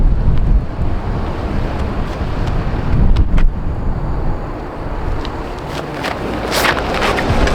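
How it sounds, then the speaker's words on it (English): Gusty wind buffets the microphone outdoors on a disc golf course, a loud, broad continuous roar with surging swells and rumbling low-end bursts, no voices present. "Golly, this wind, man."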